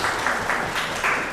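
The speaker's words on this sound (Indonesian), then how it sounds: "tepuk tangan untuk Sister Rani" Students in an Indonesian classroom clap briefly for a classmate, a short burst of scattered hand claps in a small room, moderately loud and over within a moment.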